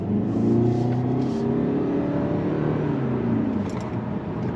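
A 2025 Toyota Camry SE with a CVT accelerates from a stop, its engine rising in pitch through simulated shift steps, heard loud and close from inside the cabin.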